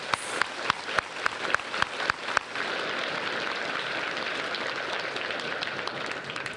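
A handful of scattered claps builds into steady applause from a crowd at a school awards ceremony, a dense even patter that continues to the end.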